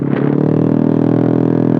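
A motorcycle fitted with an Eternal aftermarket exhaust revs steadily and loudly, its deep throaty drone holding close and continuous for the whole stretch, with no voices over it.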